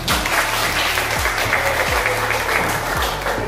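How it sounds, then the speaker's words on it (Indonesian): A classroom group claps together in sustained, dense applause that holds steady at the same level from start to finish. "aplaus dulu untuk kita semua"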